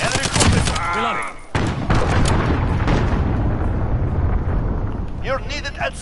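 A grenade blast in Call of Duty Modern Warfare online multiplayer: a loud, booming explosion amid continuous battle noise and gunfire, with voices talking over it before and after.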